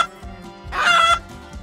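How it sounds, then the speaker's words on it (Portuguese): A single hen gives a loud, close cluck of about half a second, set against a quiet, low background. "Hens say cluck."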